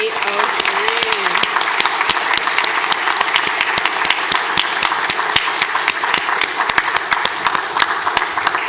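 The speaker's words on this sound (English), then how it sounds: "Let's have a warm round of applause for 803." Sustained applause from a school audience at a Grade 8 closing ceremony, dense steady clapping filling the hall from start to finish with no pause.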